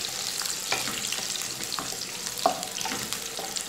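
Ginger and garlic with cumin sautéed in a pan for potato cauliflower curry, a continuous close sizzle broken by repeated spatula scrapes and stirs, with no talking.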